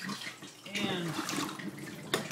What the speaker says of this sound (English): drain out lukewarm water